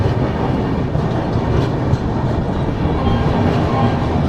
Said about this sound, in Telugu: బలాషాకి మన ట్రైన్ ప్లాట్ఫామ్ 4కి అయితే వచ్చింది.